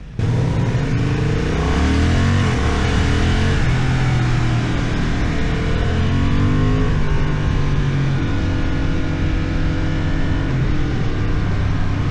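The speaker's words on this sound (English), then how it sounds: "It actually makes a very good exhaust note or engine note for a stock motorcycle." A 2025 Honda CB750 Hornet engine rumbles steadily close by with a deep, throaty stock exhaust note, revving up and easing off without pause.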